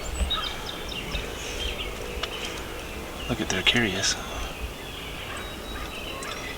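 Wild turkeys, a hen chased by a group of jakes, gobble and cluck at moderate distance in a few short bursts, while people talk quietly over them.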